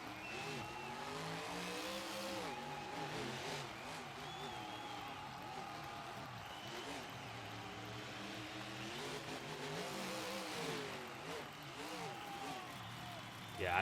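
Monster truck engines rev and strain over a roller obstacle during racing at a world finals qualifier, a continuous droning roar with rising and falling pitch, faint and distant beneath a commentator's steady talk.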